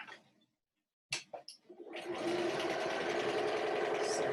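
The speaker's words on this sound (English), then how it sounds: "sew it straight down." A quilting sewing machine stitching fabric in a straight line. It begins with a few short clicks, then settles into a steady, close, continuous whir that runs to the end.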